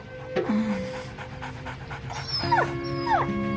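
A dog pants and lets out a few high whimpers and yips close by, the soft rhythmic panting running under the short plaintive cries, with a faint steady hum in the background.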